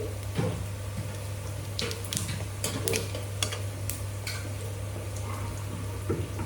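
Whole cumin seeds and torn bay leaves sizzle in hot oil with a steady low hiss, broken by scattered crackles and pops from the pan and no talk.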